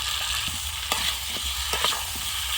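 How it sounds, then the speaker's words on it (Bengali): Potatoes with fried spice powder are stirred in a pan, a steady close sizzle broken by several sharp scrapes and clicks of the spatula against the metal, with no voices. "ভালো করে আবার নাড়াচাড়া করে নেব।"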